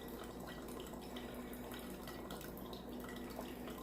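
Water poured through a cloth chorreador coffee filter in a Costa Rican pour-over setup, a soft continuous trickle and drip with a faint steady tone beneath, quiet and close.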